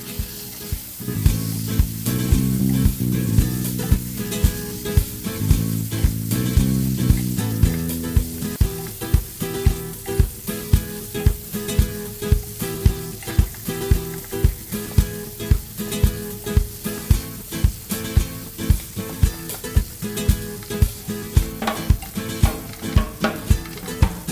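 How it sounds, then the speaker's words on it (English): Chopped tomato frying in hot oil in a karai with spices, a steady loud sizzle under quick, regular scraping strokes of a spatula stirring, with no voices. "Now add chopped tomato to the karai and stir it until the oil separates from the spices."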